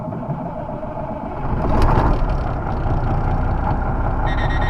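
Cold diesel engine on an RV hauler truck, turning over on a cold day and settling into a low, rumbling idle that grows louder about a quarter of the way through and then holds steady, close to the microphone.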